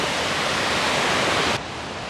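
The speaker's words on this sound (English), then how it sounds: "We had to come down here and see these waterfalls" Waterfalls along a Tennessee hiking trail give a steady, broad rushing roar of falling water, loud and continuous, before dropping suddenly to a softer wash.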